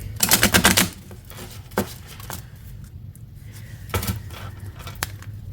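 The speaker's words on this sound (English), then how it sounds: "let's give it a good shuffle and get a 3-card collective message" A tarot card deck being shuffled by hand, with a loud burst of riffling cards at the start followed by quieter scattered taps and flicks of the cards, alone without talk.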